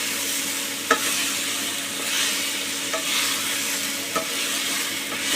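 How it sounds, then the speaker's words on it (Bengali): Potatoes and mixed vegetables fried in a pan, a loud steady sizzle with a few scraping stirs of a spatula breaking through it at intervals. "দিয়ে একটু নেড়ে নেব, সব সবজির সাথে"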